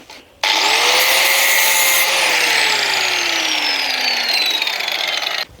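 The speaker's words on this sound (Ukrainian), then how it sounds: "тут у нас буде замок стоять, тому зараз обріжемо болгаркою" An angle grinder cuts metal close up while cladding a door, a loud continuous high-pitched whine and hiss whose pitch slowly drops as the disc bites in, then stops.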